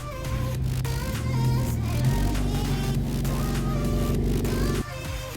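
Audi B7 car on the road, a steady low engine drone with a noticeable rise in pitch partway through as it accelerates, loud and close from inside, with music playing over it.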